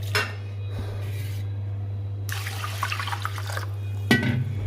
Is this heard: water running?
yes